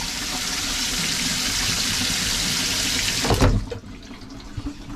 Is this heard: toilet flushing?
yes